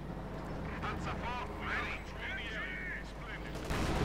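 Gunfire and explosions from a Company of Heroes 2 match, with MG42 machine gun bursts among distant battle noise, heard under a commentator's continuous talk.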